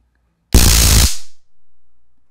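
A loud, harsh electric crackle from a stun gun spark burst lasting about half a second, then silence.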